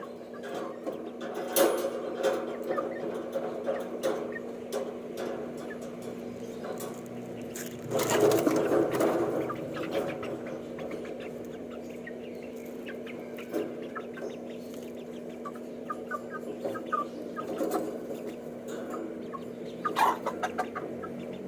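A native rooster on a backyard farm clucks in short bursts over a steady background hum, with one louder cluster of calls partway through.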